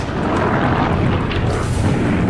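Dense, continuous rumbling with booming blasts and roaring noise, like 40mm aircraft cannon fire and explosions blended with aircraft engines, loud and sustained, North Africa campaign.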